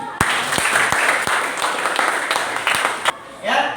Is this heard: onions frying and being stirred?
no